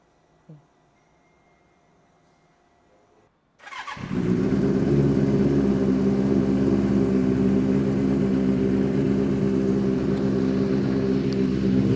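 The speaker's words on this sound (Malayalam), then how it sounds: "ഈ ഒരു ബൈക്കിൻ്റെ സൗണ്ട് എങ്ങനെ ഉണ്ടാവും എന്നുള്ളത് ഒന്ന് നോക്കിയാലോ" After a few quiet seconds a motorcycle with an aftermarket exhaust fires up and settles into a loud, deep, throbbing exhaust note that holds steady close by.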